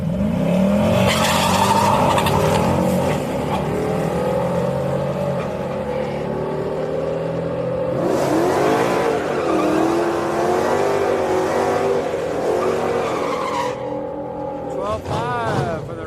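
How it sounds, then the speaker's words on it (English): Cars racing at Houston Raceway Park during a Friday street night, with loud engine roars and rising revs swelling and fading over the track, under ongoing talk. "I hear the dragster, I think."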